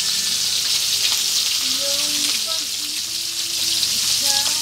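Fish frying in hot oil for a Filipino sautéed vegetable dish makes a loud, dense, continuous sizzle up close, with faint tonal chirps and squeaks drifting in the background.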